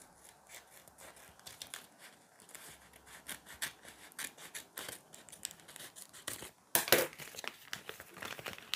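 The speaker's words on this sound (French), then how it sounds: "Je vais couper donc un deuxième carré, comme ceci, approximativement." Scissors cutting a square from a sheet of paper while covering school textbooks, a close run of crisp snips with rustling and crinkling of the paper, quiet overall with no talking.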